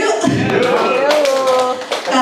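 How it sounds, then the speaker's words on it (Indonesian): A group claps hands together in a classroom-style gathering, a dense burst of palm slaps under loud overlapping voices, with a brief dip near the end before clapping resumes. "Tepuk dulu yuk"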